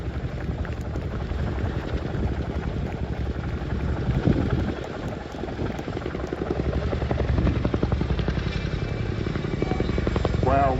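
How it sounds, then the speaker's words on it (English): A Royal Air Force Chinook helicopter thumps overhead during an airshow flying display, its twin rotors giving a loud, steady chopping beat that swells and eases as it manoeuvres, with faint crowd noise and talk around it. "what a great demonstration of the iconic Royal Air Force Chinook by the roll demonstration team"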